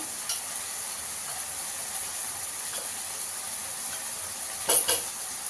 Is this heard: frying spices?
yes